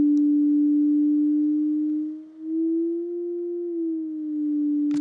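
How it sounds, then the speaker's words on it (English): An analog synthesizer oscillator holds one pure sustained note with detune applied, its pitch drifting slightly up and back, clear and alone, with a brief click at each end. "we've also got detune, which moves the tuning of the note off semitones by a very small amount."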